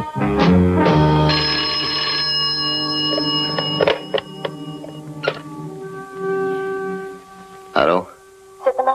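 An old-style telephone bell rings in sustained electric bursts inside a room in a French-language action drama, loud and close, with a voice briefly answering between rings.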